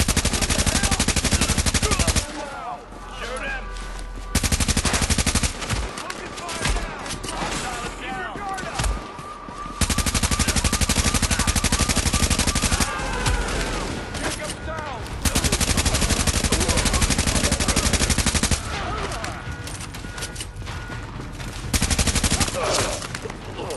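Loud bursts of automatic gunfire from The Division video game, sustained volleys broken by short pauses, with game sound effects underneath throughout.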